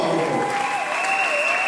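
A brief burst of audience applause, dense and steady throughout, with a sustained tonal voice or instrument sounding over the clapping.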